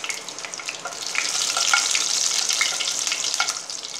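Chilli frying in hot oil while radish sambar is made, giving a steady, close sizzle with crackling pops that grows slightly louder and then holds, with no talk.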